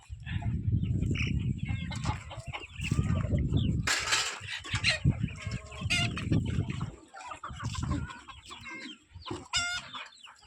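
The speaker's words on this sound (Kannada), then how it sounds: "ಕೋಳಿಗಳ ಕೂಗುವಿಕೆ ಹುಂಜಗಳ ಕೂಗುವಿಕೆ ಈ ರೀತಿ ಇದೆ" A busy poultry yard of about a hundred chickens: many chickens cluck continuously while roosters crow loudly at intervals, overlapping calls near and far.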